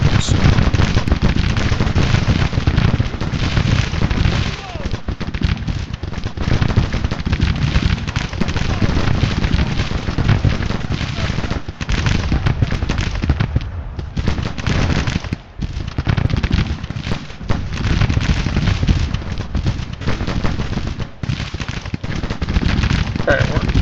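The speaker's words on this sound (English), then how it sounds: "Instead of letting our artillery just keep shooting over there" Artillery and musket fire in the video game Grand Tactician, a dense, continuous roar of crackling gunfire and booming shots that stays loud across the whole stretch with only brief dips.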